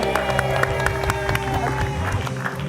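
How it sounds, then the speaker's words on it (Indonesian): A studio audience at an Indonesian comedy talk show claps in a fast, dense patter throughout, with murmured crowd noise and voices mixed in. "Nah, lu kenapa pada tepuk tangan ya?"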